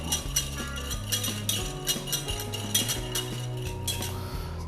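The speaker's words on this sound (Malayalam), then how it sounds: "നമുക്ക് ഇതിലേക്ക് 1 ടീസ്പൂൺ പഞ്ചസാര, 1 ടീസ്പൂൺ ഈസ്റ്റും ഇട്ട് നമുക്കിത് നന്നായിട്ടൊന്ന് മിക്സ് ചെയ്യാം" Warm milk with sugar and yeast stirred in a vessel with a spoon, producing light, repeated clinks and scrapes of metal against the container, under steady background music.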